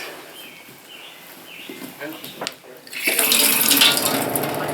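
Water from a barrel-fed tap begins running into a sink inside an outhouse, a bright steady splashing stream that starts partway through after quieter ambience.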